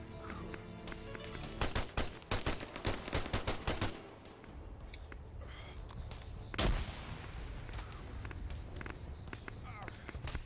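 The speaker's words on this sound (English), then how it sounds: "Pretty cool grenade." Arma 3 combat: a rapid series of sharp gunshots and blasts early on, a single heavier boom later, with footsteps and low battlefield rumble in between.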